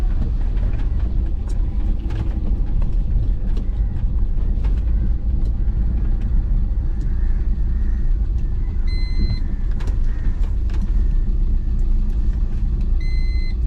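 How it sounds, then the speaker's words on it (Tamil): A car drives along a village road, its engine rumbling loud and close in a steady low drone throughout, with faint rattles and clicks over the top as gears are changed; no voices. "ஒரு பதினஞ்சு கிலோமீட்டர் ஸ்பீடு வந்ததும் தேர்ட் கியர் மாற்றிக்கிறோம்"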